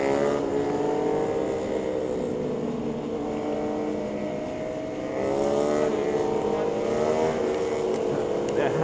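A loud motorcycle engine drones steadily nearby, its pitch rising and falling slightly, with a brief dip in the middle before it swells again.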